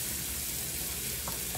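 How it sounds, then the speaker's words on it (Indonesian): Mulukhiyah ingredients frying in hot oil until fragrant and browning, giving a steady, close, dense sizzle and crackle with no talking. "Dan kita goreng ini sampai harum ya."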